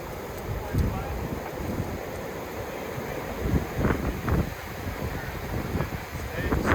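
Strong outdoor wind buffeting the microphone near a destroyed bee nest, a rough continuous rumble with gusty swells, heard under a person's speech.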